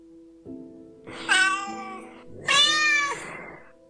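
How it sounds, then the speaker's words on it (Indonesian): A black cat trapped inside a wardrobe meows twice, the second cry louder and drawn out, both close by with a faint low hum underneath. "itu hanya seekor kucing hitam yang terperangkap di dalam lemari"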